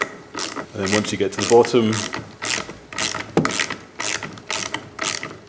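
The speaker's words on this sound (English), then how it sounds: "And then we'll grab the 17mm deep socket." Ratchet wrench driving a 17mm deep socket to tighten a nylock nut while an electric outboard motor is assembled, giving repeated close clicking bursts mixed with a man's speech.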